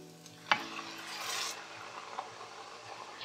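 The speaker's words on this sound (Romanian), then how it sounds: "Când alcoolul s-a evaporat, adăugăm supa polonic cu polonic." Broth ladled into risotto rice in a pot, with a single sharp clink of the ladle followed by a soft bubbling hiss and quiet stirring, faint and close.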